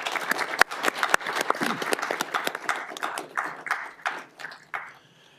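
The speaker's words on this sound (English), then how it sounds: "Let's give them another round of applause" Applause from a modest audience at a county board of supervisors meeting, with individual claps distinct within the patter, thinning out into a few scattered claps before it stops.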